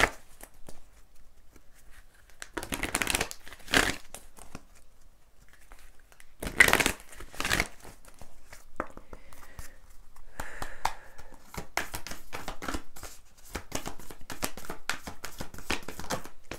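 A deck of moon-themed oracle cards being shuffled by hand, soft riffling and flicking bursts repeating irregularly, quiet and close with gentle handling noises between.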